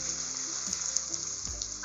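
Chopped ivy gourd and capsicum hitting a hot pan for masala khichdi, giving a soft, steady sizzle with a few small crackles and clinks, close by and without talk.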